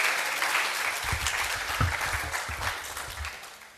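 An audience applauds at a school programme's opening ceremony, full steady clapping at moderate volume that gradually tapers, with low rumbling room noise underneath.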